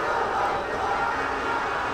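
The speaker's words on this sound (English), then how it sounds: "The crowd doesn't like it." A large stadium crowd at a Pakistan versus Bangladesh youth football match roars in a steady, dense wash of voices reacting to a foul, sustained loud murmur throughout.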